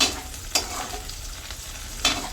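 Ingredients frying in a pan for a Bengali home-cooked bharta, a steady close sizzle broken by a few sharp stirring scrapes, with no talk.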